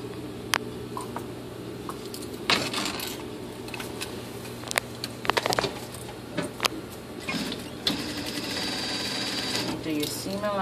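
A sewing machine stitches a zipper onto a pants side seam, its motor humming steadily with rhythmic needle clatter, interrupted by clicks and small taps, while a voice talks over it.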